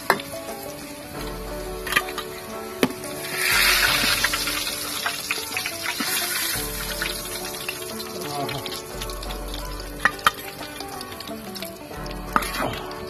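Quail frying in hot oil in a Kerala-style kitchen, giving a steady, dense sizzle and crackle that runs the whole time, close and fairly loud, with occasional utensil clicks and a voice talking faintly underneath.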